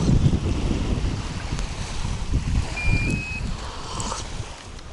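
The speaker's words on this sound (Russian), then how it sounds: "Вода, волны бьют и брызги." Storm wind and waves on the Beloyarsk reservoir during a fishing trip, a steady blustery roar with low rumbling gusts and water churning, continuous throughout with no talk.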